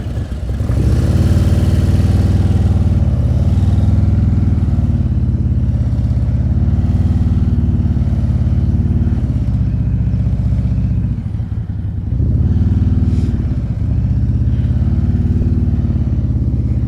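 Motorcycle engine idling and burbling at low speed during slow-speed riding practice in Illinois, loud and close, steady throughout with small throttle blips and a short dip near the end, no talk.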